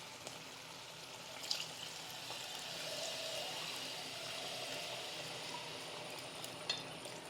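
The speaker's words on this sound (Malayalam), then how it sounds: "അപ്പോൾ നമ്മൾ ഇതിനകത്തോട്ടിനി രണ്ടാം പാൽ ചേർക്കുക." Second coconut milk poured into a pot of payasam for an Onam feast, a steady liquid splash and trickle running evenly for several seconds, close by with no voices.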